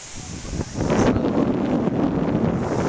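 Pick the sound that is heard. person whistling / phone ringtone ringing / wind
wind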